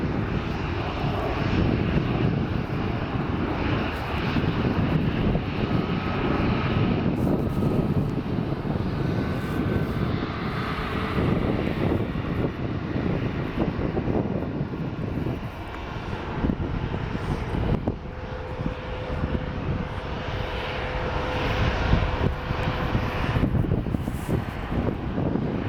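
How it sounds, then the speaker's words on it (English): Embraer ERJ-175 airliner passing at Portland airport, a steady broad jet engine roar that holds loud throughout with some wind noise on the microphone and no talk. "There goes the ERJ-175, the one that we saw taxiing."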